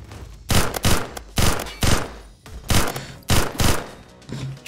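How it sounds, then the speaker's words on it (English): Gunfire in the Roblox game Phantom Forces comes as repeated short bursts of sharp, loud shots in a fairly regular rhythm, several volleys in quick succession with brief gaps between them. "I don't know what they're shooting at."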